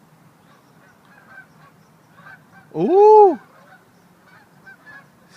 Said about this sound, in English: Hear the birdies?